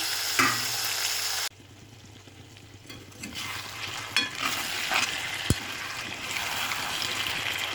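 Tomatoes tipped into a pan of spiced chicken: a steady, close sizzle of frying with stirring scrapes and a few sharp clinks, loudest at the start, then settling into an even crackle.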